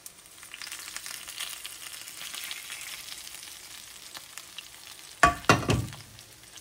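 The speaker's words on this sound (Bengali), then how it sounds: "একদম গোল্ডেন ব্রাউন করে ভেজে নিয়েছি, তেলটা দিয়ে দেবো।" Oil sizzles and crackles steadily under fish frying golden brown in a pan, then a sudden louder burst of spitting and bubbling near the end.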